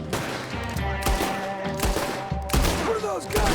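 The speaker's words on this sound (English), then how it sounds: "What are those guns they have?" Several sharp gunshots ring out in Red Dead Redemption 2, spaced a second or so apart, over a dense bed of game music and faint voices.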